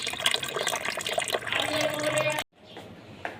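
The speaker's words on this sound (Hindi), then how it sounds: "थोड़ा सा पानी भर लेंगे।" Water running from a tap to fill a container in a home kitchen, a steady loud splashing rush that cuts off abruptly, leaving a faint trickle and a small clink.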